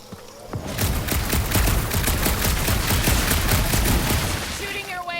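Sustained gunfire in the Guardians of the Galaxy video game, a loud, dense fusillade of rapid overlapping shots lasting several seconds with a brief beeping tone near the end.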